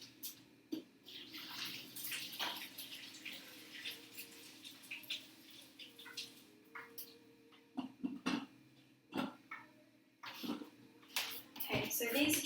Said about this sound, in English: I'm just going to go to the sink and drain them